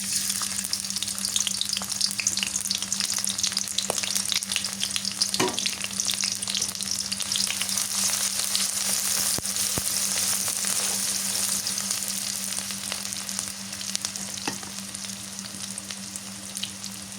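Chopped onion frying in oil for a home-cooked vegetable curry, a steady close sizzle and crackle running throughout, with occasional stirring clicks and scrapes and no talking.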